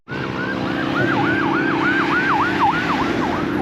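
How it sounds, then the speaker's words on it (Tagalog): Ambulance siren passing a jogger on a street in Colorado, Philippines, a loud wailing sweep repeating steadily about every quarter second, close and dominant over a rumbling traffic hum. "Yun, may ambulansya dumadaan."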